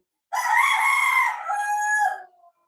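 A single loud, close rooster crow rings out for about two seconds, drawn out and wavering before trailing off.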